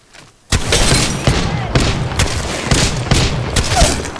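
Rapid gunfire bursts in the Apex Legends battle royale shooter, loud and close, with repeated volleys punching through a constant wash of in-game noise across about four seconds.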